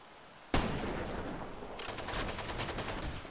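Gunfire in the video game Far Cry 2: one sudden loud shot, then rapid automatic fire crackling steadily at close range, with no voices.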